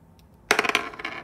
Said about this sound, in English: They're telling me to roll the dice now.